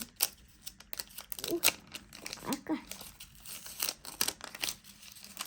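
A small paper sticker packet is torn open close by, with crisp crinkling and tearing bursts in short irregular handfuls and a brief murmured voice between them.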